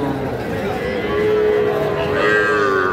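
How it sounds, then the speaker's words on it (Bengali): Young bull calf at a busy cattle market, a drawn-out moo rising over crowd chatter, with people talking nearby throughout. "এইটাও একটা সার বাছুর দর্শক।"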